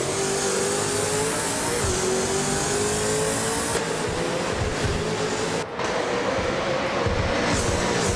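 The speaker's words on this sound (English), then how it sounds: "The V8 supercars at Bikerniki Oval are creating tight battles with plenty of overtakes." V8 supercars race around the short, twisty Bikerniki Oval, engines droning hard and continuously at high revs with rising pitch as cars pass, one brief dip mid-run, and no voices.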